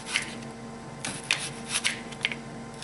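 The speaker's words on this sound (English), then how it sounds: "And then I'm going to slice the onions," A sharp knife slicing through a whole onion on a board, a series of crisp, close cutting snaps at irregular intervals, with no talking.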